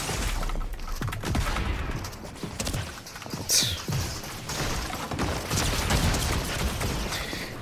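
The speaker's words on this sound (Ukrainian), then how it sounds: "І з одної, і з іншої сторони стріляє бач, зі всіх сторін." Gunfire crackles from several directions in a shooter game, dense bursts and single shots layered with hoofbeat-like clatter, loud and continuous throughout.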